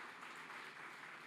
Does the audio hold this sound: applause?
yes